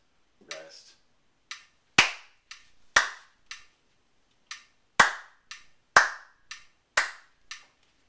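Hands clap out a counting rhythm in crisp, close, isolated claps, about a dozen in uneven groups separated by silent rests, with a brief voice near the start.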